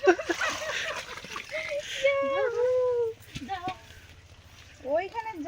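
Fish leap and splash at the surface of a village pond near its outlet, a burst of watery splashing up front, then voices talking over faint water sounds.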